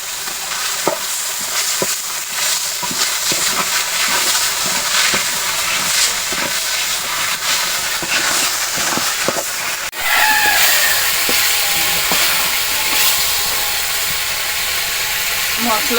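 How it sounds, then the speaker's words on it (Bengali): Spice paste for Bengali-style chicken curry sizzles in hot oil in a pan while being stirred steadily, with a constant close frying hiss, scraping strokes and a brief jolt partway through; no talking. "মশলাটা আমি ভালোভাবে কষিয়ে নিয়ে তারপরে মাংসগুলো দিয়ে দিব"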